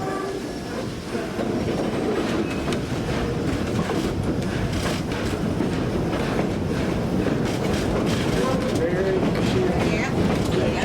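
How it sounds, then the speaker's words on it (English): A historic narrow gauge steam train rolls along with continuous rumbling and rhythmic clickety-clack of wheels on rail, heard steadily from inside or close to the carriages with voices murmuring underneath. "as well as the sights and sounds of steam power in action"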